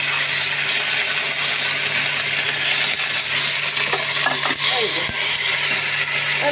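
Shrimp stir-frying in a pan with chopped garlic, a constant loud sizzle with occasional scraping and stirring clatter of the spatula, no talking.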